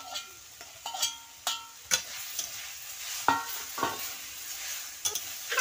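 Susni greens frying with crushed chilies in a pan, stirred with a utensil: a steady soft sizzle broken by a string of sharp scraping strokes at uneven intervals, close and moderately quiet, with no talking.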